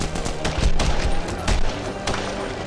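Rapid bursts of gunfire in The Punisher video game ring out loudly and close, as repeated sharp shots and volleys, with a voice occasionally heard beneath them.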